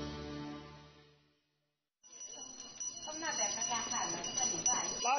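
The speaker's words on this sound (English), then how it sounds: "The daily bell indicates that it's time to put out the garbage." Daily town bell in the historic canal town of Wuzhen, China, signaling garbage collection time: a sustained ringing tone fades out, then after a short gap a bright, busy ringing returns and continues loudly.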